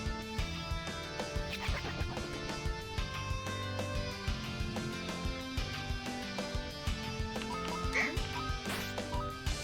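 A duck in the video game Cthulhu's Paradox quacks briefly amid steady, busy chiptune-style game music and effects, the quacks loud and near, with no speech.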